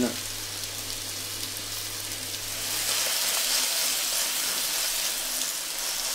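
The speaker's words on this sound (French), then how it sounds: "On va les faire cuire gentiment, prendre une légère coloration." Sliced courgettes sizzle gently in a frying pan, a steady close hiss of frying that swells slightly midway, with no talk over it.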